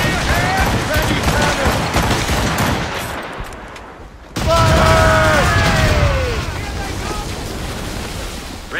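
Ship cannons fire in a rapid, rolling volley during an Assassin's Creed Rogue naval battle on icy Labrador waters, loud booms and crackling blasts over surging waves and sea noise, with a brief lull before a second barrage.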